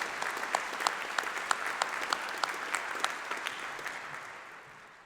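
Applause rises from the audience at a December doctoral hooding ceremony. Individual sharp claps stand out over a soft crowd bed, then the clapping gradually fades away at the end.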